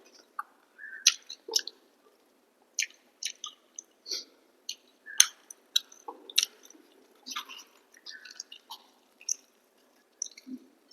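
Someone chews luchi with vegetable curry close to the mic, with soft wet bites and squishy mouthfuls in an irregular rhythm. Quiet pauses fall between the bites.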